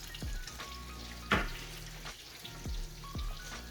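Bacon fries in a pan with a soft, low sizzle, broken by a few utensil clunks and scrapes; the sound is fairly quiet and no one talks.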